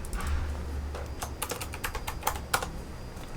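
Typing on a computer keyboard while naming modules in a modular synth patch, a close, quiet run of irregular key clicks in short bursts with no talk.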